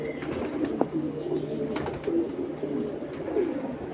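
Soft repeated cooing of Silver and Shaf-Chila pigeons, several low throaty calls in a loose rhythm over faint background noise.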